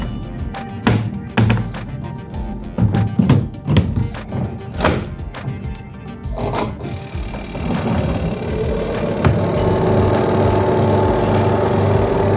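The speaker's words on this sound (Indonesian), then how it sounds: "Berbunyi ya guys, kedengeran suaranya menyala. Suaranya halus karena memang dinamonya halus" Several hard thunks and clattering taps, then a twin-tub washing machine's newly replaced spin-dryer motor starts and runs with a steady, smooth hum to the end.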